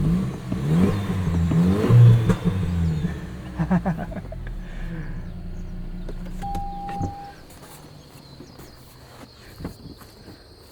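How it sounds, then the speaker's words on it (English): A 2024 Toyota Tacoma Trailhunter's engine revs loudly up close, with a burst of crackling exhaust pops that settles into a lower idle rumble with faint whirring. "Was not expecting exhaust pops out of this."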